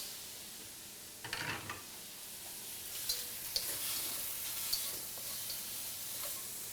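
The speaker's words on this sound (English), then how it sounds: "I'll add a little bit more oil. Pop in my shrimp." Shrimp sizzling in hot oil in a pan, a steady close hiss with occasional small pops and crackles.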